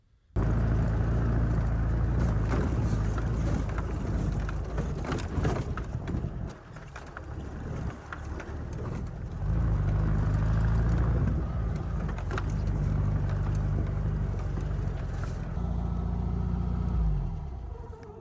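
A 1961 VW Beach Buggy driving off-road, its engine droning loud and steady under a constant rumble and rattle of the body, the sound dipping briefly midway and fading near the end.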